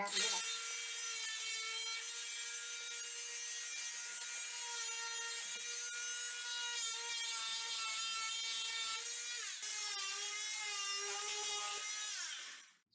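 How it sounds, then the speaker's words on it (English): A Dremel rotary tool cuts into a toilet drain pipe, giving a steady high-pitched whine with a dense stack of harmonics that dips and wavers slightly as the bit bites in, running continuously for about twelve seconds before stopping abruptly. "If I take the Dremel here,"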